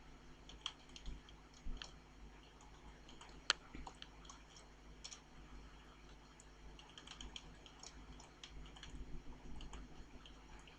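Someone types a C program on a computer keyboard, quiet irregular clicks and taps in short bursts, close and faint, with one sharper key strike standing out.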